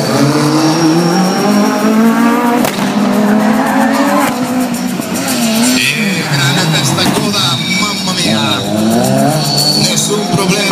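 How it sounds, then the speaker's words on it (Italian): A 2005 BMW M3 drift car at a motor show, engine wailing and rising and falling in pitch as the tyres skid, loud and continuous, with a voice talking over it. "eccolo qua, drift BMW numero 10"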